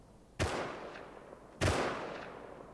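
Two loud gunshots in a shooter video game, sharp and close, each followed by a long fading reverberant tail, spaced about a second apart.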